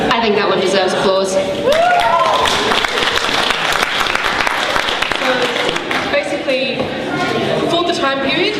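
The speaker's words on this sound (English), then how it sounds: "I think that one deserves applause." An audience at a cosplay competition breaks into sustained clapping, dense and loud throughout, with voices, cheers and chuckles mixed in.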